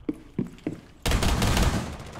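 Gunfire in the video game Rainbow Six: three sharp single shots, then a sustained loud burst of rapid automatic fire.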